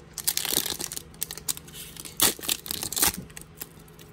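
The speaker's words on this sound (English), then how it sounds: "Let us open up another Lapras pack." Crinkling and tearing of a Pokémon Sword and Shield booster pack's foil wrapper being opened by hand, close and fairly quiet, with irregular rustles and a few louder rips and no talking.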